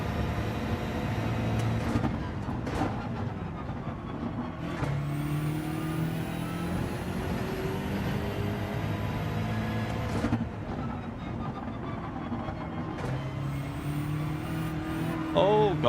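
A BMW race car in Gran Turismo 7 drones at high revs, its engine note rising and falling through gear changes in a steady racing whine, with a brief burst of talk partway through.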